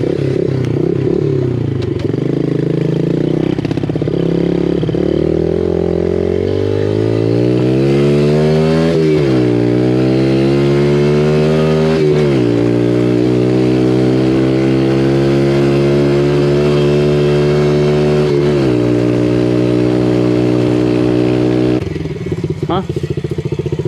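Dirt bike engine with a sticking carburetor revs loud and close, pitch sweeping up and down through several throttle blips before settling, with a brief voice underneath.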